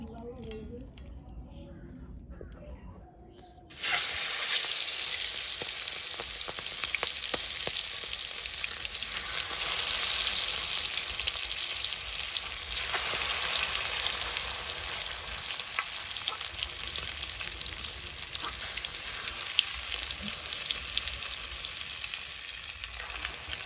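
Green chilies, onion, cinnamon and cardamom fry in oil in a pan. After a quiet start, a loud, dense sizzle suddenly erupts and holds steady, broken by occasional clinks of a utensil against the pan.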